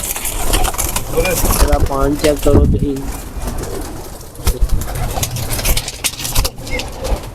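Teddy and Imamdeen breed pigeons are handled up close, with soft cooing and wing flutters mixed under steady talk and a faint engine hum in the background.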